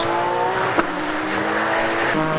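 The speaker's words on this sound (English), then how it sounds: "And here's the TVR Cigaris of Tim Hood." A TVR racing car passes during a GT Cup race at Donington, its engine a sustained, fairly loud roar heard at a distance with a brief sharp transient partway through.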